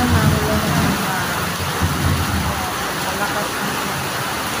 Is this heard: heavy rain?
yes